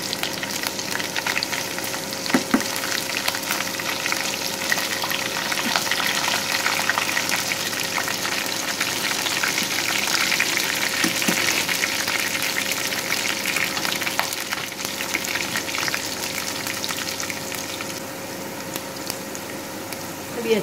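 A tempering for tomato chutney fries until brown in hot oil, a loud, dense, continuous sizzle and crackle that runs unbroken for the whole stretch, with a few small clinks and no speech.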